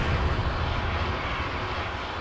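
Steady drone of a Huron transport helicopter engine in a military video game, a continuous loud whine and rumble holding even throughout with no voices.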